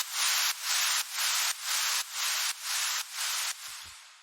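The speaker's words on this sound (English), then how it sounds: "I've got this noise fall here." A synthesized noise fall made in SynthMaster One, shaped with a filter, reverb and stereo widening, pulses as eight loud, bright hiss bursts in a steady rhythm before thinning into a fading tail, with nothing else heard.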